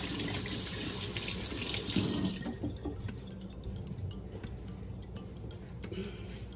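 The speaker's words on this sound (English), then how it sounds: "Let me rinse my hands quick because they're all bacony now." Water from a kitchen tap runs hard over greasy hands for a couple of seconds, then cuts off, leaving faint drips and small clicks behind.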